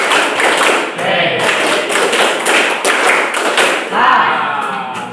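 A classroom of students claps a rhythmic counted pattern together, loud and close, with bursts of claps in repeated groups and a voice briefly heard around them.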